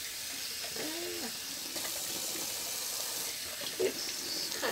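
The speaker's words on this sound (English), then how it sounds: "little cold water rinse" Cold tap water runs in a steady soft stream for a rinse during wet shaving, fairly close, with faint clinks and a brief splash near the end.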